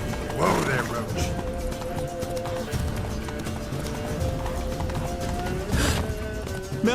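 Geralt's horse Roach clip-clopping in The Witcher 3: steady rhythmic hoofbeats close by, with tack and gear sounds, running beneath game music and spoken dialogue.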